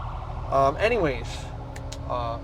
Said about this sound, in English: sorry, we got some sirens behind us,